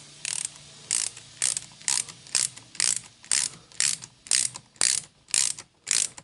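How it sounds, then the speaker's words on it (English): A ratchet wrench clicks while tightening the clutch center screw on a Harley Shovelhead, about a dozen evenly spaced ratcheting strokes, close and crisp with no talking. "now what we're going to do here is we're going to tighten this center screw"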